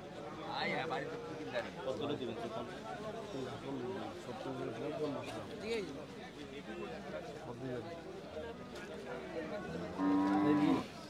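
Bullocks and cattle at a busy village livestock market in Cumilla, Bangladesh, several close moos over constant crowd chatter and people talking.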